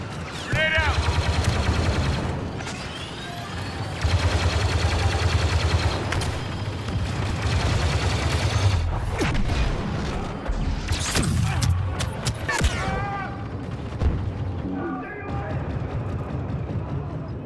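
Grenade blasts and rapid gunfire in a Star Wars Battlefront II battle, loud repeated shots and booms over a constant low rumble, with voices calling out over the fighting.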